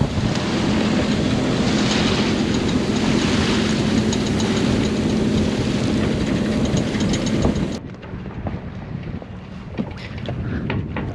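Sailboat motor sailing at sea at about 9.5 knots, its engine droning steadily under heavy wind rush and water noise, then the roar drops abruptly to quieter wind and splashing near the end.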